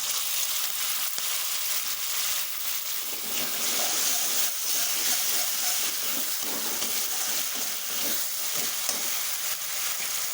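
Spice paste with tomato frying in a pan for an egg and potato curry, a steady close sizzle with scattered stirring scrapes throughout and no voices.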